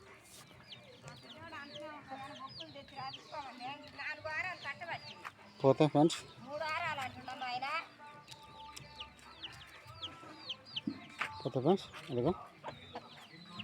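Hens cluck near a brood of chicks at a farm, with a rooster nearby, their busy calls scattered throughout and rising in louder bursts while someone talks over them.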